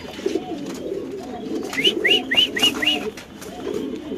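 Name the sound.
pigeon cooing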